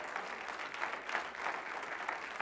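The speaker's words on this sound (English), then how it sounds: "Someone give the Lord a hand clap of praise." A church congregation claps in praise during a Pentecostal service, a steady, fairly distant wash of many hands with gentle swells, no voices over it.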